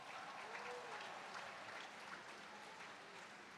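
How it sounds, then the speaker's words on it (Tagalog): Faint, thin applause from a congregation at a church anniversary celebration, a steady low patter of clapping heard distantly throughout with a faint voice briefly over it. "Parang ang hina ng inyong palakpak sa Diyos."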